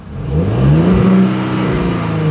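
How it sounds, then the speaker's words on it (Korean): An Audi S5 Coupe TFSI revs while parked, the engine and exhaust note rising sharply to a loud peak, holding, then easing back to a steady idle. "정차 시에 이 회전수를 올려보면은"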